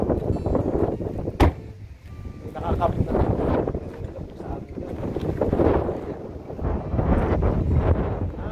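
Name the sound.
strong wind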